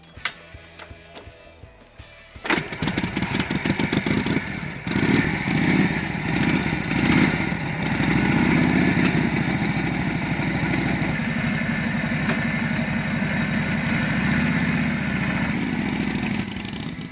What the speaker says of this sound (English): Kent, thanks so much for allowing us to show off your very beautiful motorcycle.